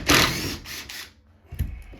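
Power driver whirring in short bursts while removing screws from a stair railing, two quick buzzing runs, a pause, then another brief burst, close up.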